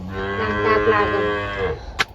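Cows moo in a village farmyard: one long, loud, drawn-out low bellow of nearly two seconds, close by, followed by a brief click.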